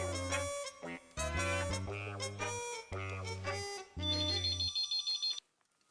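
A phone rings after a number is dialed in a Hindi TV sitcom scene, playing a faint, jingling electronic melody in short bursts before it stops.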